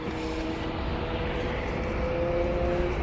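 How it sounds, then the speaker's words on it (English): An airliner being pushed back from a gate at a busy airport: a steady low engine roar and whine, fairly loud and constant, with no talking. "Sounds like we have a pushback on the American gate."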